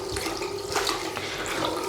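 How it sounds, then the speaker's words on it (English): Tap water running steadily into a bathroom sink during cleaning, a continuous close splashing rush with slight surges, no voices. "They're constantly under running water."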